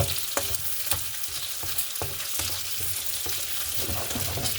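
Panisses and onions sautéing in a pan, a constant close sizzle punctuated by regular sharp clicks and scrapes of stirring.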